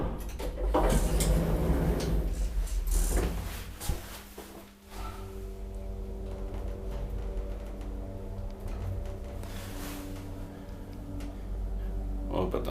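An old Kone roped hydraulic elevator built in 1987 runs in a residential building in Östersund, Sweden, with a steady low motor and pump hum, a few clunks and door thuds, and someone talking over it.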